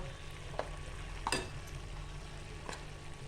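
A spoon stirs cooked vegetable with grated fresh coconut in a pan, giving a few faint scraping clinks over a soft, steady sizzle, quiet and close with no talking.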